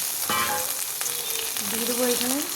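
Cut potatoes and cauliflower hiss and crackle as they fry in hot oil with whole spices, a loud continuous sizzle with a voice faintly audible in the background.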